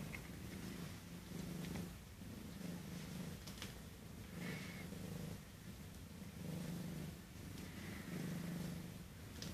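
A cat purrs continuously and loudly close to the microphone, a steady rhythmic rumble that swells with each breath in and out.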